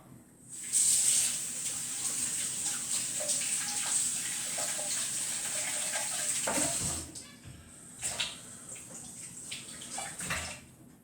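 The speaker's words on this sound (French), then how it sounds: "je vais me laver les mains" Hands being washed under a running tap, a steady close hiss of water with splashing and rubbing changes, briefly interrupted around the middle before the flow resumes; no talking.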